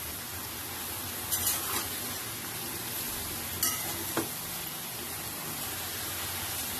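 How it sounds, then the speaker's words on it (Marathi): Chopped ridge gourd (shirali) frying in a pan is stirred with a spatula, a soft steady sizzle broken by a few sharp scraping clicks of the utensil against the pan, close and fairly quiet, with no talking. "आता चांगले मी मिक्स करून घेते त्याला"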